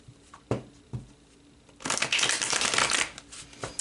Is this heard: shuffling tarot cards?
yes